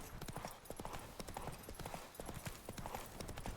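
Horse hooves gallop in The Witcher 3, a fast continuous clatter of hoofbeats, quite loud and steady throughout with faint game ambience behind.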